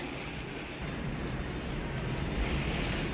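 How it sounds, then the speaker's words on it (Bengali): Heavy rain pours during a storm with strong wind in Mirpur, a dense, roaring wash of noise that holds steady and grows slightly louder toward the end. "মিরপুর একে বৃষ্টি হচ্ছে তুমুল, ঝড় তুফান সহ"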